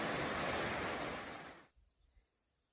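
Bear Creek on a Pacific Crest Trail hike rushes as a loud, steady wash of water noise for about a second and a half, then cuts off abruptly, leaving faint outdoor sounds.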